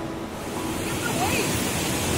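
Ocean surf rolls in at Mirissa Beach, Sri Lanka, a continuous wash of breaking waves mixed with wind noise, steady and fairly loud with no talk over it.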